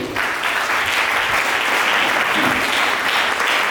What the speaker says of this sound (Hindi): क्या धन्यवाद की ताली देंगे?